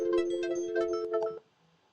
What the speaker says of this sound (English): Sorry for that phone call.